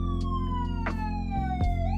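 A loud American ambulance siren from a model diorama scene wails continuously, its steady tone slowly dropping in pitch, with a few sharp clicks and knocks along the way.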